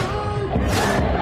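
Crowd of pro-Palestine protesters chanting at an outdoor rally, a dense continuous roar of many voices with rhythmic swells, moderately loud and near.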